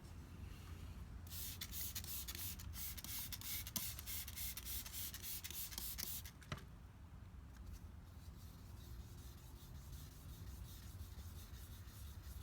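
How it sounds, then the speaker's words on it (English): Hand wet sanding of a scratch in car paint with sandpaper at medium pressure. Rapid, raspy back-and-forth rubbing strokes are loud and close for several seconds, then continue more softly. "So now I'm going to sand this some more"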